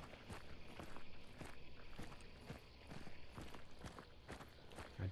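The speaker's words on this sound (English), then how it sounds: "I definitely hear some footsteps" Footsteps in the video game Hunt: Showdown, a steady run of crunching steps around a chicken coop, evenly paced at moderate loudness with a low background rumble and no talking.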